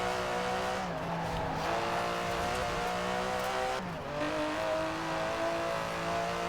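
Aston Martin DB11 engine in Forza Horizon 4, a loud, steady drone that dips briefly as the car shifts, then climbs again, with faint tire noise underneath and no talk.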